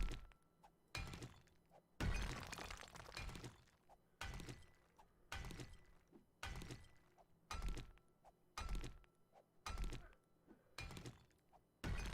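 Repeated digging strikes from a 7 Days to Die mine excavation, about ten hard crunching thuds arriving in a steady rhythm roughly once a second, loud and close with no talk.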